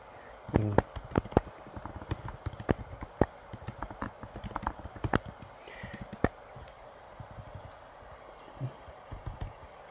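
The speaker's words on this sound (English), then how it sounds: "The microphone is picking up on my banging on the keyboard" Heavy-handed banging on a computer keyboard picked up by a nearby microphone: irregular clusters of sharp clacks and thumps, fairly faint, over a low room hum.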